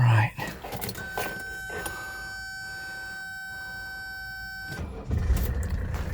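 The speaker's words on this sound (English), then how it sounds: "I'm gonna go ahead and fire it up" A 1984 Mercedes 300D diesel sits with steady warning chimes sounding for several seconds before the engine cranks and catches, settling into a rough, rumbling idle at the end.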